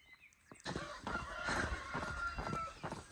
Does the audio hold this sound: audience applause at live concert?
no